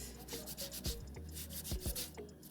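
Dirty yam scrubbed with a sponge to remove sand, sawdust and dirt, giving soft, steady rubbing strokes close by with a few duller knocks, no voices.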